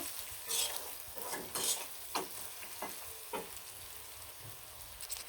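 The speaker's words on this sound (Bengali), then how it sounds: "সুন্দরভাবে পেঁয়াজগুলো ভাজা ভাজা করবো মরিচগুলো ভাজা ভাজা করবো" Onions and green chilies frying under repeated stirring, with scraping strokes every half second or so, then settling into a steady hiss.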